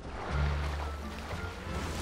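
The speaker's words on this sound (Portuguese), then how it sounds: "Eu ouvi jet ski, velho." A jet ski runs on water in the video game GTA 5, a low engine drone with a swelling rush of water and wave wash, moderately close and steady, with no one talking.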